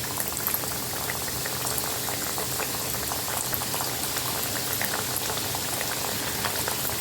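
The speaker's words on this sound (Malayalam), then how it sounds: "എണ്ണയിലേക്ക് ഇട്ട് കൊടുത്ത് നമുക്ക് എല്ലാം ഇതുപോലെ ഒന്ന് ഫ്രൈ ചെയ്തെടുക്കാം." Cheesy half moon pies deep-frying in hot oil give a steady, dense bubbling crackle that stays close and even throughout, with no voices.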